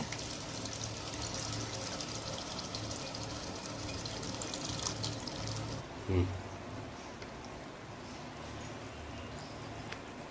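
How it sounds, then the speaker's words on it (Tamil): Tamarind water is poured into a clay pot for a home-style fish curry (meen kozhambu), giving a continuous splashing pour for several seconds, followed by a small knock and quieter kitchen sounds. "புளி தண்ணியை ஆட் பண்ணிக்கோங்க"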